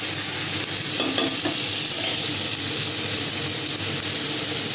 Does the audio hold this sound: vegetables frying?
yes